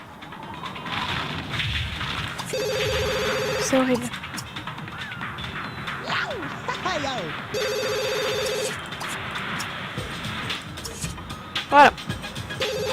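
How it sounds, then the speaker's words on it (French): A telephone rings repeatedly in The Sims 2, bursts of electronic ringing around two seconds long separated by pauses, with someone speaking French over and between the rings and other game sound effects. "Mais le téléphone, il sonne tout le temps."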